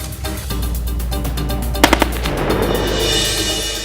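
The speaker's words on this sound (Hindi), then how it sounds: "पोस्ट पर अचानक दुश्मन की गोलीबारी।" Enemy gunfire at an ITBP border post: rapid automatic bursts crackle in a fast repeating rhythm, with a few sharper, louder shots standing out midway amid continuous rumbling noise.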